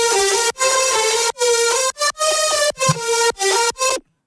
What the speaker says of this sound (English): Our leads here are 3 stacked leads.